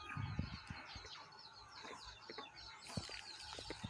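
Young chicks peep in a steady scatter of small high calls, with occasional clucks from a hen and faint thumps nearby, fairly quiet throughout.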